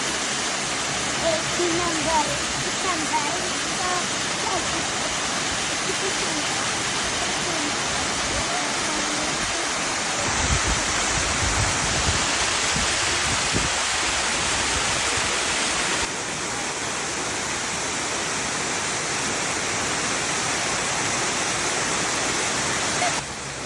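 A monsoon waterfall on a green hillside roars as a loud, constant broadband rush of falling water, with rain also around and a voice faintly present beneath the steady torrent.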